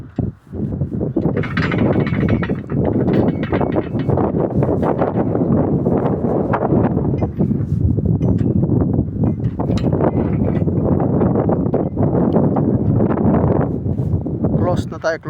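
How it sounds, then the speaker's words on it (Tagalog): Strong gusts of wind roar steadily into the microphone outdoors near a heavy gate at a backhoe dig site, loud and continuous throughout with people talking over it. "Lakas ng hangin."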